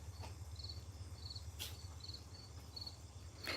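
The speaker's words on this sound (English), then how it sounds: "Now I can hear crickets" Crickets chirp steadily in short, evenly spaced bursts, quiet and at a distance, over a low background hum.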